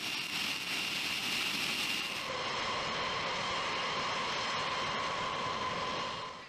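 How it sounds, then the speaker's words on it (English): Jet engines of a B-52 bomber roar during a cartridge start, a loud continuous rumbling whine that holds steady throughout, its pitch rising slightly partway through, with no talk. "This causes the engines to roar to life."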